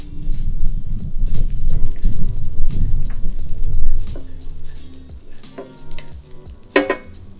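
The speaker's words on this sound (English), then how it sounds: "Then we're gonna start with sauteing the onions." Onions sautéing in oil in a pan for a plant-based chana and aloo dish, giving a steady sizzle with stirring scrapes, loudest in the first four seconds and then quieter with a few sharper clinks near the end.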